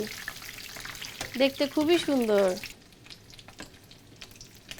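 Jali kabab coated in toast-biscuit crumbs frying in oil, a steady soft sizzle heard first under a person talking, then continuing quietly on its own.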